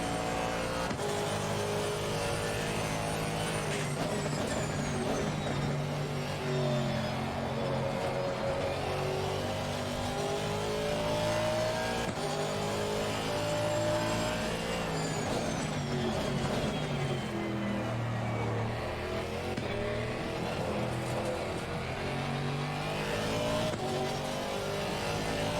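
Race cars lap Silverstone in Assetto Corsa Competizione during an endurance series race, a continuous loud blend of revving engines, gear changes and cars passing close by, with no talk.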